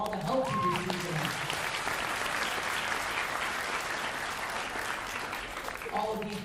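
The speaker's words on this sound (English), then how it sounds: "Can we get a little round of applause for all the help you received tonight?" Sustained audience applause at a fall orchestra concert, a broad even roar of many hands clapping from a sizable crowd, with a speaker's voice briefly audible at the start and end.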